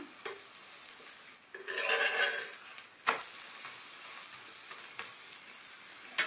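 Carrot chapati cooks with oil on a pan, giving a soft sizzle and brief scraping and stirring sounds, quiet and close with no talk.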